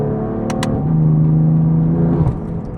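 BMW F80 M3 CS with an equal-length exhaust revving, a deep engine rumble that rises and holds a droning tone before dropping off, heard close and fairly loud with a couple of brief sharp clicks early on.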